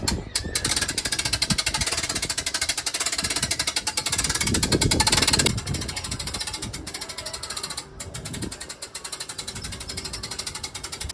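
Hand crank raising a Viking Legend pop-up camper, steady rapid ratcheting clicks running continuously for several seconds, close and fairly loud, with a brief pause near the end.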